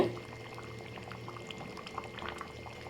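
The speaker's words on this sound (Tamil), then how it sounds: "நல்லா கொதி வருதுங்க நல்லா கொதிச்சு வெந்துட்டு இருக்குங்க" Tirunelveli-style pork curry boils in a pot, giving soft, close bubbling pops and a low simmering rumble, quiet and steady throughout.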